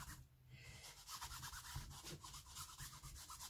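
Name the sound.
rubbing an old book with a towelette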